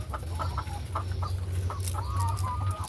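Laying hens at 25 weeks of age cluck and murmur close by in a poultry house. Short overlapping clucks and calls sound over a steady low hum of farm machinery.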